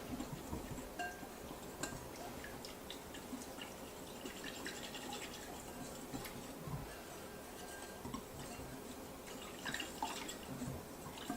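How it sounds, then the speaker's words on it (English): Quiet, irregular scraping and light clinks of a utensil stirring melted chocolate in a bowl for German chocolate cake, soft and close, continuing without talk. "Now I'm just going to stir until I can get all of the chocolate"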